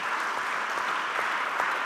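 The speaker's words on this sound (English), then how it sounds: "So let's applaud for Kay, let's applaud for AE, and let's applaud for Pablo" Conference audience breaks into steady, full applause, a dense wash of clapping that holds at an even level throughout without pause.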